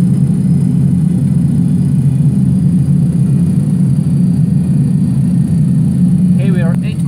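Pratt & Whitney JT8D engines of a DC-9 in a flight simulator game give a loud, constant low rumbling drone with a steady whine above it on approach, and a brief voice comes in near the end.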